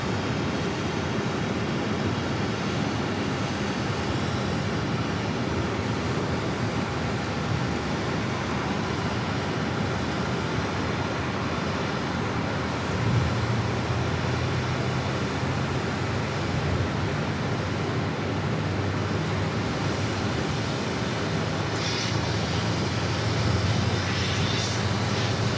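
An airliner in Stand Up to Cancer livery arrives at Phoenix Sky Harbor from LAX, heard as a steady, broad engine roar that holds loud and even throughout, without talk.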